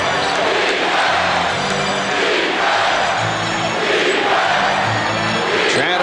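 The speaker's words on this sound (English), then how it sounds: "Chant of defense from this capacity crowd." A capacity crowd in a basketball arena at a 2001 NBA playoff game between the 76ers and the Raptors chants steadily and loudly, a continuous roar of many voices with a rhythmic, repeating rise and fall.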